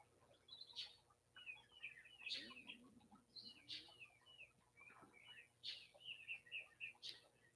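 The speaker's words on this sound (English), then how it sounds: "The birds." Birds chirping outdoors, repeated short high calls and tweets at moderate distance, faint overall, with occasional lower clucking sounds in the background.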